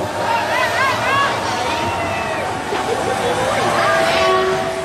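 A packed train carrying Thailand's Red Shirt supporters pulls away from a station with steady rumbling rail noise, crowd chatter and cheering, and a horn or whistle sounding over the din.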